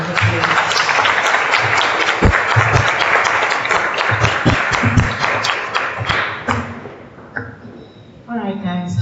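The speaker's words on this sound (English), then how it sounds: "can we give Rudy a round of applause?" Audience at a tech talk applauding after a speaker, dense clapping with some thumps that fades out, followed by a voice speaking.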